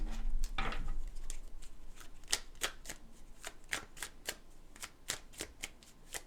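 Tarot cards are shuffled and pulled from the deck, making a series of crisp, snappy riffles and slaps, close and distinct, repeating at an irregular rhythm with no talking.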